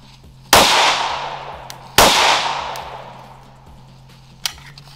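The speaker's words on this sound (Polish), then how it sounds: "Strzelę, pokażę wam, jak ta broń w ogóle pracuje, bo pierwszy raz z niej strzelam w życiu," Two sharp, loud FN Five-seveN pistol shots about 1.5 seconds apart, each ringing out with a long decaying echo, followed by a faint metallic clink.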